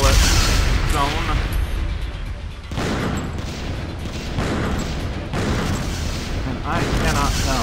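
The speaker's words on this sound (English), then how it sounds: "you shoot the missiles, and it seems to blow up all the missiles" Missiles blowing up in the video game Killer7, a run of loud booming blasts and crashing bursts in quick succession, with spoken voices mixed in among the explosions.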